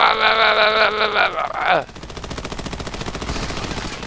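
An RPD machine gun fires in the video game Army of Two: The Devil's Cartel, a fast, sustained burst of rapid, evenly spaced shots. Voices talk first, then the loud burst runs to the end of the clip.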